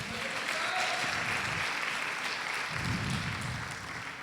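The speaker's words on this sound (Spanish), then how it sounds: "Dele un aplauso al Señor, hermanas." Women at a church service applaud together in a steady, sustained burst of clapping that continues evenly throughout at moderate distance, with no clear speech over it.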